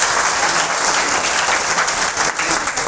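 Loud, dense applause from an audience in a college hall, steady and sustained throughout with no break or voices rising above it.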